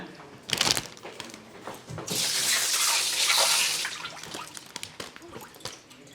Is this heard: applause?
no